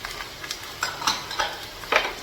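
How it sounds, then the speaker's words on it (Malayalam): Onion with ginger and green chilli being stirred in a frying pan for Kerala-style moru curry: several soft, rhythmic scraping strokes over a quiet sizzle. "നന്നായിട്ട് ഇളക്കി കൊടുക്കുക"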